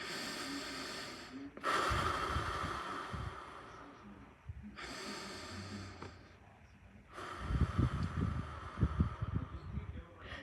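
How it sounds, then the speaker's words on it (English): Slow, deep breaths come close to the microphone: three long, airy inhale-exhale bursts separated by quiet pauses, with the last one the heaviest. "I just took a couple deep breaths"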